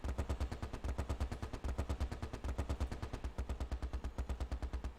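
Sustained rapid machine-gun fire from the World War II strategy game Close Combat Last Stand Arnhem, an unbroken rattling stream of evenly spaced shots at a steady cadence, dense and loud throughout.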